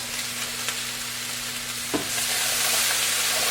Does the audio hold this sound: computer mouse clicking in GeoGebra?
no